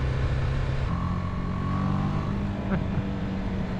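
Steady engine drone from a 2020 BMW G 310 R single-cylinder beginner motorcycle while riding, a continuous close hum with wind noise that holds its level and shifts pitch slightly partway through.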